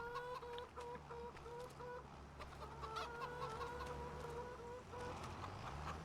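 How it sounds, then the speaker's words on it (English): Chickens in Farming Simulator 25 cluck steadily and repeatedly, a close, continuous farmyard chatter over a low ambient hum, with no talking. "I love the sound of chickens."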